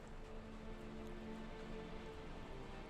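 Soft, steady rainfall makes a faint, even hiss throughout, with no voices.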